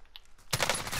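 M13 gunfire in a shooter video game, a quiet moment breaking into a loud, rapid burst of automatic shots that continues to the end.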